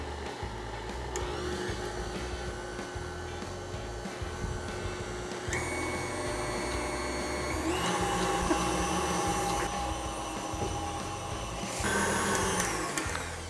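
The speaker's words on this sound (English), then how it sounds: "I'm gonna mix our beautiful custard together with the whipping cream, just like that, nice and easy" Custard being folded together with whipped cream, presumably with an electric mixer, for a cream Napoleon filling: a steady, loud motorized whir that runs throughout and rises in pitch partway through.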